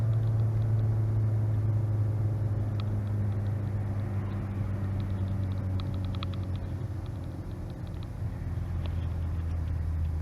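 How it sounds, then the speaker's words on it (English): A Hyundai Tucson NX4 engine locked in third gear, revved to about 4,000 rpm and then coasting down off the throttle: a steady, loud low rumble and drone that holds, then sags slightly as it winds down, with no voices. "Lock it into third gear here from a rolling start, rev it up to 4 grand, and then let off the accelerator"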